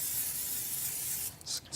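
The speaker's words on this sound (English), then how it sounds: "non-stick cooking spray." Non-stick cooking spray hisses steadily from an aerosol can onto a pan in a kitchen, a continuous close spray lasting over a second, then breaking into a couple of short bursts at the end.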